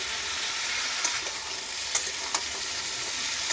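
Chopped raw mango fries in a pan over a medium flame, a steady soft hiss broken by a few light scrapes and taps of the stirring spoon; no talking.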